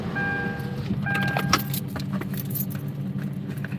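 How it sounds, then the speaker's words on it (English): A car being shut and locked outside a store, with keys jangling in brief metallic bursts and a short electronic chirp over steady outdoor traffic rumble. Nobody speaks. "Let me close this up. Let me close my car."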